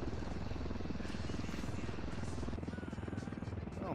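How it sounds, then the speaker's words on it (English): A helicopter hovers overhead in Ghost Recon Wildlands, a dense, continuous rotor and engine roar filling the scene, loud and close, with the beating thump becoming more distinct toward the end. "Chopper's right above us."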